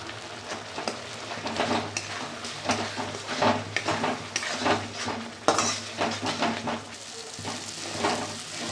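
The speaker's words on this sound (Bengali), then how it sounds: "এভাবে একটু ভালো করে কষিয়ে নেবে।" Mustard, poppy seed and chili spice paste stir-fried in a pan with turmeric, sizzling steadily while a utensil scrapes and clinks against the metal in repeated strokes, close and moderately loud, with no talking.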